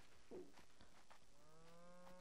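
A cow moos in the Lego Fortnite video game, one drawn-out low call with rising harmonics near the end of the moment, fairly quiet over a steady background hum with no one talking.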